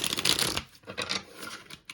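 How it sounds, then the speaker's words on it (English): A deck of tarot cards is shuffled up close, with a dense riffling burst followed by softer, scattered card flicks and rustles, and no talking. "we'll do one final shuffle"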